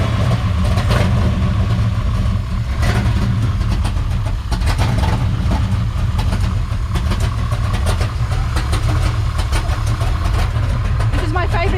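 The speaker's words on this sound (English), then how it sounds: "Oh, we're just gonna hear the engine." A classic car engine idles at a Ford Model A car club show in Tennessee, a loud, continuous low rumble heard close up, with people talking over it.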